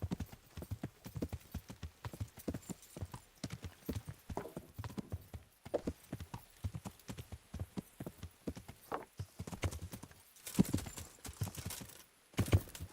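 Rhythmic clip-clop of a horse trotting over ground in the medieval game Kingdom Come: Deliverance, steady hoofbeats close and clear, with a brief whinny and gear rustle near the end.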